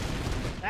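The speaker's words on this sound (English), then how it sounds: "That's how you shoot a volley." A massed musket volley in a video game erupts as one rolling, noisy blast that fills the whole moment, ending in a brief ringing tail.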